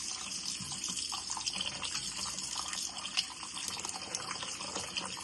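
Raw oxtail meat being rinsed under a running tap in a sink, a steady close splash and trickle of water with small drips and sloshes, continuous and moderately soft, no voices.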